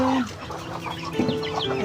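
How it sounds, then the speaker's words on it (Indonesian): Chickens clucking steadily at feeding time on a small village poultry farm as pellet feed is handed out, a close flock of overlapping clucks and chirps with no talk. "saat ini kami mau kasih makanan ayam"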